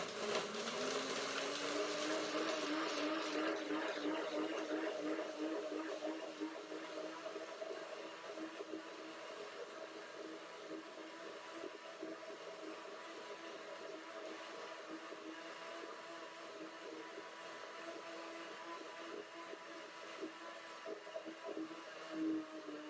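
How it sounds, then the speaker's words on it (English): High-speed blender breaking down unsoaked cashews and dates, a loud steady whir that rises in pitch at the start, then settles into a sustained grinding drone throughout. "Break it down first, the first blending."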